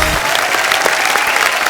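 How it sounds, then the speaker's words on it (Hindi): A studio audience at a television comedy show breaks into loud, dense applause that fills the space steadily from start to finish. "इनके लिए तालियां।"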